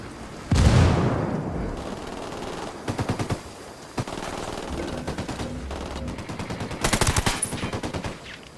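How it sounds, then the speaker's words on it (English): Allied gunfire on cartel enemies in Ghost Recon Wildlands: a heavy opening blast, then several bursts of rapid automatic fire, some distant, some close and loud, separated by short pauses. "Dad's firing on the cartel."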